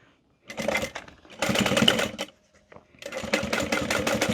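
A sewing machine top stitches a bag in three close bursts of rapid mechanical rattling, separated by short pauses, with no talking.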